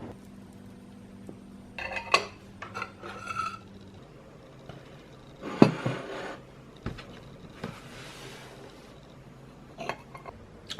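Slicing a coffee and walnut cake and making tea in a quiet kitchen: scattered clinks of cutlery and crockery, a sharp knock, a kettle-like hiss swelling midway, and soft clatters spaced irregularly with quiet gaps between, no talk.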